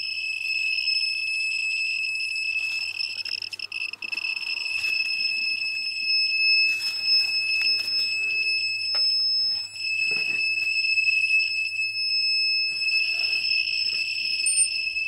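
A dosimeter watch beeps a high-pitched electronic warning for high radiation levels beside a highly radioactive Chernobyl graphite crane claw, a steady piercing tone running throughout with faint handling noises and scrapes underneath.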